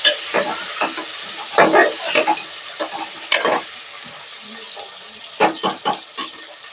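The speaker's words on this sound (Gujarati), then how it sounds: "આ સુધારેલું બટેટું છે એ આમાં નાખી દઈએ આપણે" Chopped potato is added to a sizzling pan of stuffed brinjal curry, followed by close bursts of spatula scraping and stirring over a low, steady sizzle.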